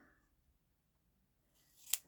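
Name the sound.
scissors cutting washi tape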